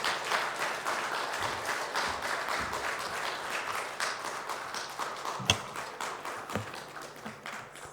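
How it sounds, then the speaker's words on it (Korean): A church congregation applauds to welcome the pastor, a steady spread of many hands clapping together in a large room for several seconds, moderately loud and unbroken, with no speech over it. "목사님 나오실 때 우리 환영의 박수 하겠습니다."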